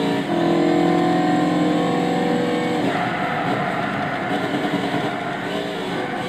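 The Audi RS6 Avant's 5-litre twin-turbo V10 roars loudly in Gran Turismo 6, first holding a strong steady tone, then shifting into a rougher, lower drone as it keeps accelerating.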